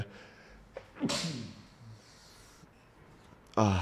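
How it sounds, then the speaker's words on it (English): A single sharp sneeze bursts out during a livestream, followed by a short breath and a voice starting to talk again nearby. "now I had to sneeze."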